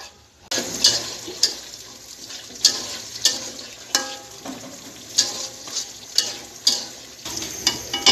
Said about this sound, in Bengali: এখানে আগে চিকেন, আদা রসুন লবণ গোলমরিচ দিয়ে আগে ভেজে নিচ্ছি